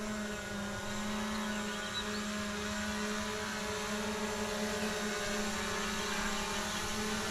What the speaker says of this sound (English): This Air 2S is nice and smooth. Bring it on down.